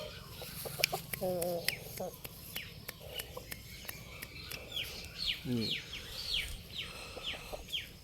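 Fighting cock breed rooster clucking and calling in a farmyard, with a series of short repeated calls and scattered sharp taps over steady low background noise, someone talking intermittently nearby.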